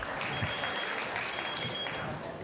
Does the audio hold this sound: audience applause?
yes